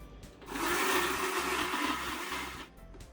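A mixer grinder whirs loudly as it grinds cashew fruit with jaggery into dosa batter, starting after a brief pause, running steadily for about two seconds, then stopping.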